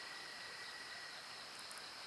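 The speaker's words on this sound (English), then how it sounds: "I'll get to sleep tonight listening to the crickets and the occasional cicada." Crickets chirp softly at night in a misty pine valley, a faint continuous high trill over quiet ambient hiss.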